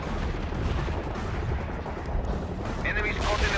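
Explosions and artillery fire in the World in Conflict Soviet Assault game, a continuous heavy rumble of blasts and booming shellfire, loud and dense, with a brief sharper burst near the end.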